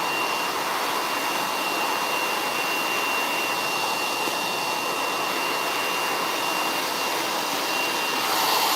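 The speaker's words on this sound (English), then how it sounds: "we are blow drying and flat ironing the hair" A hair dryer blow-dries hair with a loud, steady roar that holds unbroken throughout, close and without talking.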